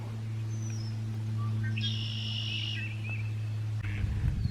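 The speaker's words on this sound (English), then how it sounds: "This is the breeding grounds for red-winged blackbirds." Red-winged blackbirds call on their breeding grounds by a lake in Jefferson Memorial Forest on a May morning. A few faint chirps and a buzzy trill sit over a steady low hum, ending in a brief handling rumble.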